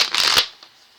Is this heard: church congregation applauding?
no